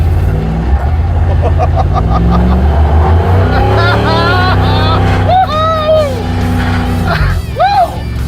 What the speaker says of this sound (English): it does good burnouts for something with absolutely no engine left